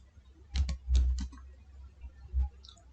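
A few quick keystrokes tapped on a computer keyboard, close and fairly quiet, in two short clusters with a lone click after a pause.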